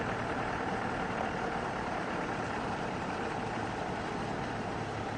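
A safari vehicle engine idles outdoors in a steady, even drone that is faint and continuous, with no voices.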